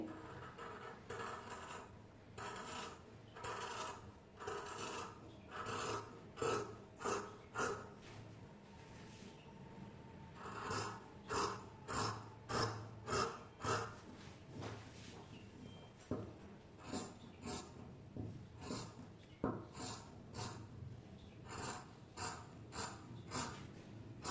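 Scissors cut through fabric for a round-neck maxi dress in a steady run of crisp snips, repeated in quick clusters with short pauses between, close and fairly quiet with no talk.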